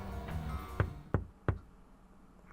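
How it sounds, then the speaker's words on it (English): Knocks on a taxi window, three sharp raps spaced about a third of a second apart, fairly close, with a fainter tap at the end against a quiet background. "Just then, someone knocks on a window."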